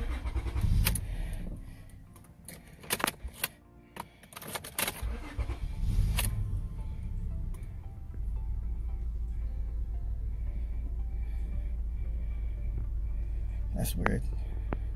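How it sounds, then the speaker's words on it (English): A car engine cranks and catches, settling into a steady low idle hum after some clicks and brief talking. "I'm gonna start the car."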